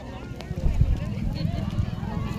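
Carabao race with water buffalo running fast along the track, a low rumbling patter of hooves under near, constant crowd talk and commentary.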